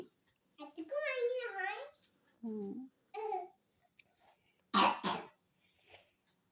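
A young child with a cold gives one short, harsh cough up close between bursts of babbling speech, with quiet pauses in between.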